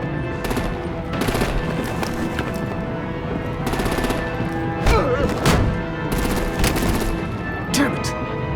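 Bursts of rapid machine-gun fire and heavy thuds from artillery in the Batman: The Enemy Within video game, loud and repeated in clusters over a dense background of combat noise.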